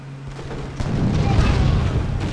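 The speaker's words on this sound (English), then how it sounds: "Let's pull our frigate back and we'll fire on their pikemen" Cannon fire from a frigate bombarding pikemen in the strategy game Civilization V, a loud booming blast that swells into a sustained rumbling roar after a brief quiet lead-in.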